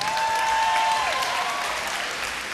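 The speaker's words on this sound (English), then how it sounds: "another round of applause, please" A studio audience at a televised vocal competition applauds steadily, a dense wash of clapping that tapers slightly toward the end, with a faint tone lingering underneath.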